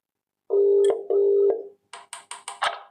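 A phone call rings out while waiting for an answer: two long steady ringback tones, then a quick series of short chirping beeps, clear and close with no voices.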